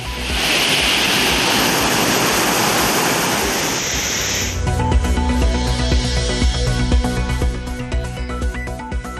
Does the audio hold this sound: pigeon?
no